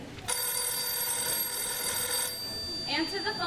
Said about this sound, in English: Answer the telephone.